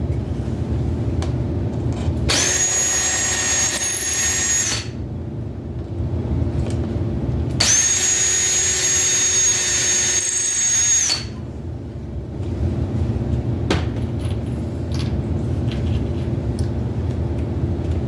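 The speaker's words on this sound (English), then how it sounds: "we'll go on the bottom side and drill up" A power drill drills up into wood from the bottom side in two loud bursts of a few seconds each, separated by a pause, over a low background rumble.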